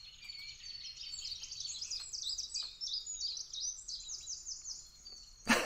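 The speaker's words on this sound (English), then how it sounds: "I can hear the birds." Small birds chirp and sing outdoors in a quick, continuous run of high twittering calls, faint and somewhat distant, ending with a sudden loud knock.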